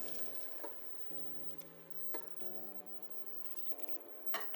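Fresh tomatoes dropped into a hot pan for homemade tomato sauce, giving a soft steady sizzle with a few faint clicks and squishes, close and quiet.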